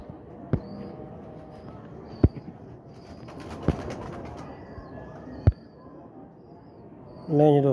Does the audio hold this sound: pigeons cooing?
yes